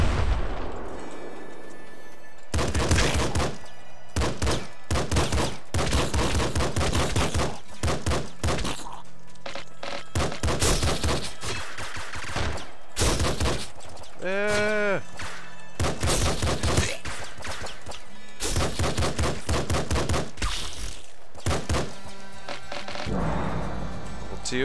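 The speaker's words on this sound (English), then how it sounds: "Regular pistol." Single pistol shots from the top-down shooter game Nuclear Throne crack out in a fast irregular series, sharp and loud, among other game effects and background music, with a brief rising tone near the middle.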